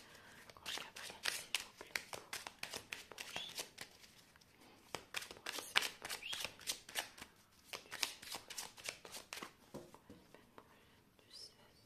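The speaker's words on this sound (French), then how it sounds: "je vais faire quand même un tirage en croix avec cet oracle" Oracle cards being shuffled by hand before a cross spread reading, soft rapid flicking and riffling in quick bursts with faint whispery texture, close and quiet throughout.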